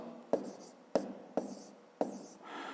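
A pen or pencil draws on paper during a math lesson, with four sharp taps and scratchy strokes roughly half a second apart, close and fairly quiet.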